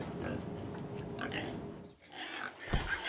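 Pigs grunt and oink in a steady rumbling stream, close and fairly loud, with a brief pause and then more snorting grunts.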